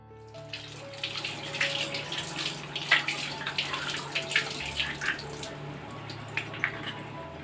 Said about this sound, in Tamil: டைரெக்டாக ரன்னிங் வாட்டரில் வந்து வாஷ் பண்ணாலே போதும்.